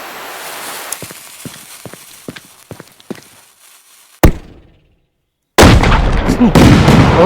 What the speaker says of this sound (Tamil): அப்படியே மல்டிப்புளாக பிரிஞ்சு பல இடத்துல போய் வெடிது